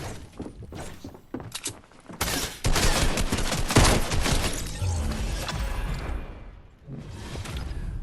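Rapid bursts of pistol and mixed gunfire ring out during a Fortnite live event, loud and dense over whooshes and crashes, with a quieter opening and a short pause before the action resumes.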